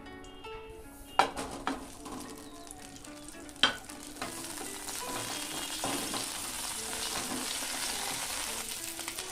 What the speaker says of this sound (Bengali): এবার একটা কড়াইয়ের মধ্যে তেল দিয়ে ডিমগুলোকে আমি ভেজে নেব